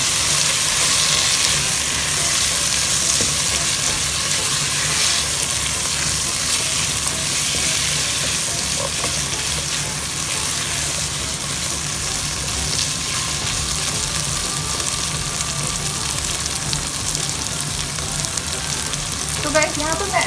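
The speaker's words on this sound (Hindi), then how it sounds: "इसको हम अच्छे से भून लेंगे ताकि मसाला हमारे चनों में मिक्स हो जाए।" Masala sizzles and fries in a pan with chickpeas, green chillies and ginger, a dense continuous crackle with occasional stirring scrapes, close and steady throughout.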